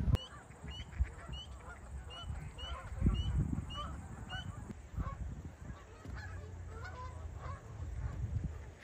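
A flock of geese and ducks at Montezuma National Park, a wildlife refuge, honks and quacks over and over. The calls are loud, overlap each other and come from close by, with a low hum of wind or traffic underneath.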